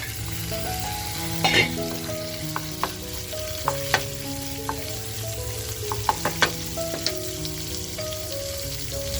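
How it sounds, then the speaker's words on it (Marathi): Tandoori mutton keema cooks on a buttered flat griddle, sizzling and bubbling even with the heat off, with a steady frying hiss broken by scattered clicks and scrapes and no talk. "खिमा बघा गॅस बंद करून सुद्धा कसा उकळतोय"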